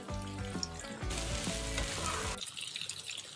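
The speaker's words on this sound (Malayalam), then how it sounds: "അതിലോട്ട് നമ്മൾ അരിഞ്ഞു വെച്ച ക്യാപ്സിക്കം ഇട്ട് കൊടുക്കണം." Chopped capsicum lands in a hot pan and sets off a loud, dense sizzle that swells for a couple of seconds, then drops to a quieter simmer with a low tonal hum underneath.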